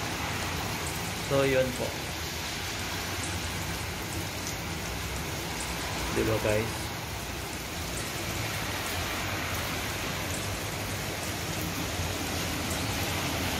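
Heavy rain falls steadily in Kuwait, a dense even hiss that fills the whole stretch, with a brief voice speaking softly over it.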